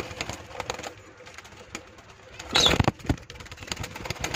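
Caged Australian doves, young birds of a few months, coo softly and repeatedly amid low background rustle and noise, with a brief louder flutter of sound partway through.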